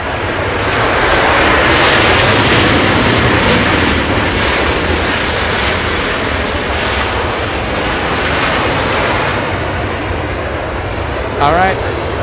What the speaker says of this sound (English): after this arrival, we have Southwest Airlines coming in